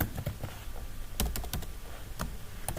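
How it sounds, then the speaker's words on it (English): Fingers type on a computer keyboard while entering text in a word processor, producing irregular clusters of quick, close clicks and taps over a soft room background, with no talk. "So I am just typing hello everyone."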